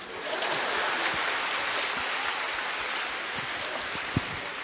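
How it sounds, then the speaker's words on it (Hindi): An audience at a campaign event claps steadily, a dense hiss of many hands that fills the whole stretch at even loudness, with a single sharper clap near the end. "मारो ताली, तब मार लो।"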